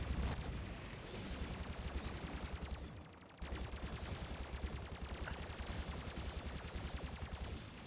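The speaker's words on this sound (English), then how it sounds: "Just shoot him, just shoot him." Sustained rapid gunfire in Call of Duty's Shadows of Evil zombies mode, dense automatic bursts rattling for several seconds with a brief gap midway, loud and close, no voices.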